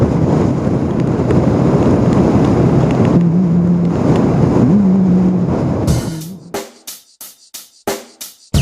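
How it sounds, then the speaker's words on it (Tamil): Sea waves crash at Dhanushkodi, a loud, continuous wash of surf heavily buffeted by wind, breaking into choppy gusting bursts near the end. "இது வந்து செம்மையாக வந்துட்டுருக்கு அலை."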